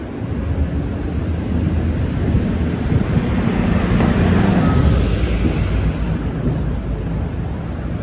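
Late-night traffic rolls through Midtown Manhattan with a loud, continuous rush of passing cars and wind buffeting the microphone, peaking briefly midway as a vehicle sweeps by.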